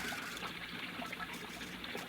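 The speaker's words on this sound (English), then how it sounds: "Most ingenious, my fountain." Water runs steadily in a recirculating fountain, a continuous soft trickle and splash at moderate distance with no break.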